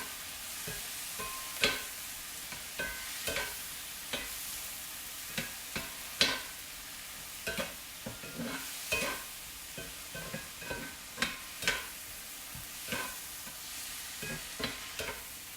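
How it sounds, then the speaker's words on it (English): Garlic sizzling in a pan for marinara sauce while a spoon stirs and scrapes it, giving a steady soft frying hiss broken by irregular clacks and scrapes, close and moderately quiet with no talk. "then I'm going to add my 3 tablespoons of garlic"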